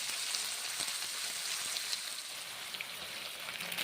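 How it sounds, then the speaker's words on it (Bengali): Bottle gourd and red lentils frying in hot oil give off a continuous, dense crackling sizzle up close, with no talking. "গরম তেলের সঙ্গে ভেজে নিচ্ছি"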